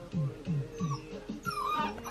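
A puppy whimpers and yips in a quick run of short, high whines, fairly close and steady, with no talking over it.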